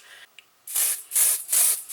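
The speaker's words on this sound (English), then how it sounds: "this is a primer and a setting spray" An Airflash Radiance Mist primer and setting spray gives a brief rattle, then three close, loud aerosol bursts of hissing mist in a quick sequence.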